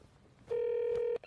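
A single short electronic telephone tone as a number is speed dialed, a clean steady beep lasting under a second, with a faint click just before and after in an otherwise quiet room.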